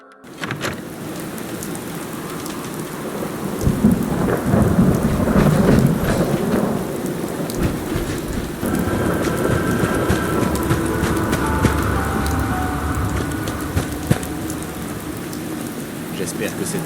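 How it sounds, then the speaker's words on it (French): Steady heavy rain pours in the video game Fallout 4 while thunder rumbles and cracks, loud and continuous, with faint voices briefly beneath. "J'espère que cette pluie va bientôt s'arrêter."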